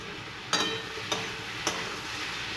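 Potatoes fry in a pan before ridge gourd is added, a soft, even sizzle punctuated by three evenly spaced stirring clacks, with no voices.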